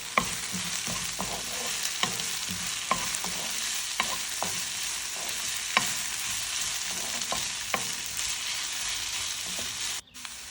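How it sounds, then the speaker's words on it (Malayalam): Garlic and green chilies sauté with salt in a hot pan, a constant dense sizzle with a scattering of sharp utensil scrapes and taps as the mix is stirred, no voices. "ആവശ്യത്തിന് ഉപ്പും കൂടി ഇട്ട് നല്ലോണം ഒന്ന് വഴറ്റിയെടുക്കുക"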